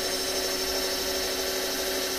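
A steady, continuous whirring drone of a power tool running at constant speed, with a sustained high whine and no pauses.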